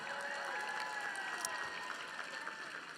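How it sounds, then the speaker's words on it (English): At the AABA 50th anniversary gala, the audience breaks into applause for a trophy winner, steady clapping from a room full of people heard fairly faintly with a few cheers and voices mixed in. "Let's give her some applause."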